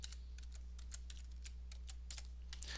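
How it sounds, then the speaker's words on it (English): Fingers typing on a computer keyboard, a quick irregular run of soft clicks, faint and close over a low steady electrical hum. "you go to Google and then you type in BlueStack"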